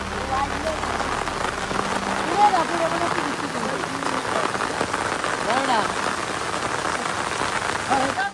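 Monsoon rain patters steadily onto surfaces around Konkan rice paddies during planting season, a dense close hiss of drops with faint bird calls and low indistinct voices beneath.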